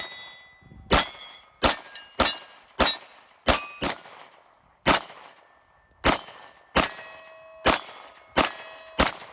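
Glock 45 pistol being fired: about a dozen sharp, loud cracks, each with a bright metallic ring, spaced unevenly with short gaps, no talking.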